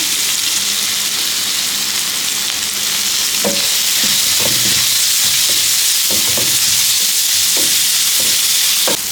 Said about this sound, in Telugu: ఇవన్నీ మరోసారి కలుపుకొని కరివేపాకు వేసుకోవాలి.